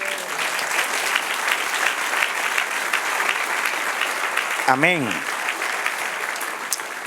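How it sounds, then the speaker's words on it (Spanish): A church congregation applauds steadily throughout, a dense, moderately loud patter of many hands, while a voice briefly calls out in the middle. "Dale un aplauso al Señor"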